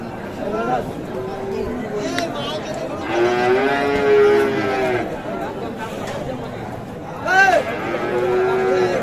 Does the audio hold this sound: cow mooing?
yes